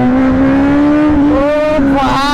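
Kawasaki Z900 motorcycle engine revving hard during a wheelie, a loud sustained high-pitched engine whine that holds steady then rises and wavers near the end, heard close and dominating the scene.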